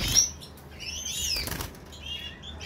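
Birds flap their wings in an aviary, with several brief fluttering bursts close by and faint high chirps between them.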